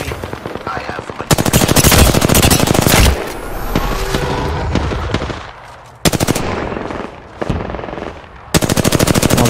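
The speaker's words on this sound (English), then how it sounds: "Opening fire on the enemy." Bursts of automatic gunfire in the battle royale game Apex Legends, loud and rapid with short pauses between volleys and a steady in-game background underneath.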